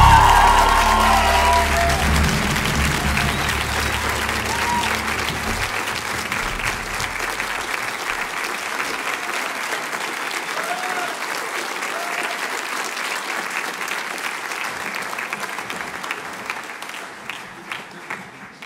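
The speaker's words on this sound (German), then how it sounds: "einen großen Applaus!" A concert audience at a school choir performance gives loud applause for the dancers, the clapping dense and sustained at first and gradually thinning toward the end, with some voices over the start.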